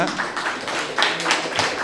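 Audience clapping at a Tamil astrology talk, a short burst of scattered hand claps close by, fairly loud with voices murmuring underneath.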